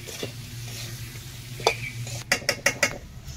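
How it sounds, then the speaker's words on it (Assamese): A spice mix of cumin, coriander and chili is stir-fried in a pan, with a low steady sizzle and a few sharp spoon scrapes and clinks near the end, close and moderately loud, with no talking. "এতিয়া এইখিনি লৰাই লৰাই ভাজি ল'ম।"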